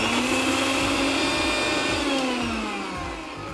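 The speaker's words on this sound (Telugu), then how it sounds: "సో వీటన్నిటిని మనం కొంచెం గ్రైండ్ చేసుకోవాలండి. సో గ్రైండ్ చేసుకుందాం." Kitchen mixer grinder pulverising garlic, ginger and masala powder for a Konaseema chicken fry, a loud steady high-pitched motor whine with a rattling, churning grind that eases slightly toward the end.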